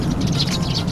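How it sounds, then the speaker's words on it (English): A sparrow, a small brownish bird of cities and towns, gives a brief burst of quick, bright chirps, close and fairly loud over a low background hum. "Sparrow."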